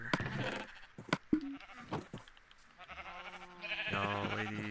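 A Minecraft sheep bleats several times in a survival world, short wavering calls with pauses between, fairly close and clear against quiet background.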